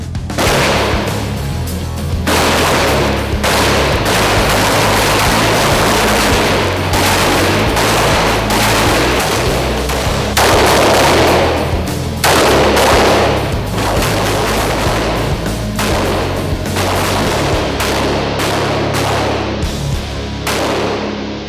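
Rifles fire on an outdoor shooting range in a sustained, dense fusillade, many loud overlapping cracks from several shooters rolling continuously for about twenty seconds with no talk.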